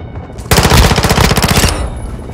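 A chopper gunner helicopter firing in Call of Duty: Modern Warfare II: one loud, sustained burst of rapid automatic cannon fire lasting about a second, then cutting off abruptly.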